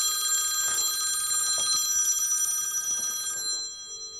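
A mobile phone ringtone plays steadily in high, bright tones for about three and a half seconds, then cuts off, fairly close with faint thumps and handling beneath.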